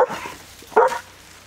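A mother dog guarding her puppies gives a short bark or yip close by, then a second sharper bark follows after a pause, with quiet background between.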